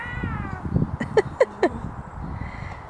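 Three short, high meows in quick succession over muffled background noise and low voices.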